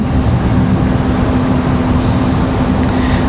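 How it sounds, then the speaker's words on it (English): A Boeing 777 airliner departs at Raleigh-Durham airport, its engines a loud, close, continuous roar with a steady hum running under it the whole time. "the 777 ready to go, headed out that way"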